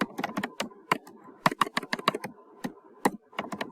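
Rapid, uneven keystrokes on a computer keyboard fill the clip with clusters of close, crisp clicks and short pauses, and no one speaks.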